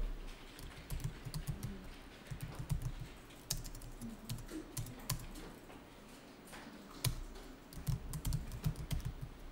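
Someone types on a computer keyboard while entering accounting data, with quick uneven bursts of close key clicks, short pauses and occasional heavier single presses like the Enter key.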